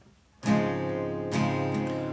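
Two strummed guitar chords from a song ring out close up, the second arriving a little under a second after the first, each left sustaining.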